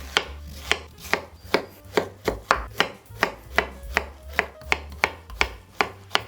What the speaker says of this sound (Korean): 저는 애호박이 마침 있길래 애호박 한 3분의 1개 정도만 썰어줄 거고요.